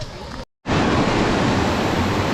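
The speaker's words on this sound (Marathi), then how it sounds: "मित्रांनो हा आहे पहिला वॉटरफॉल" A monsoon waterfall at Morbe dam near Panvel roars as a loud, dense, continuous rush of water close by, broken only by a brief dropout near the start.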